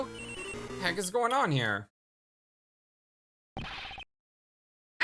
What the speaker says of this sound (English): That sound is her phone.